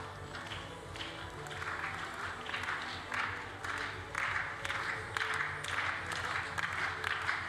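Spectators at a women's 10m air pistol European Championship final clap along in a steady rhythmic beat, moderately loud and sustained throughout.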